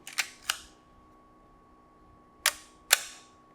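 Crisp shutter clicks from a Leica M6 TTL film camera fitted with a 35 mm lens, four sharp isolated snaps in two pairs separated by a quiet gap, close and distinct with no talking.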